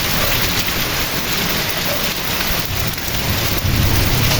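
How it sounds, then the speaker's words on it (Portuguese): Heavy afternoon rain pours during a windy storm in the Pernambuco backlands, a loud, constant roaring wash of water with low rumbling underneath, close and unbroken, with no talking. "é muita chuva, chuva forte"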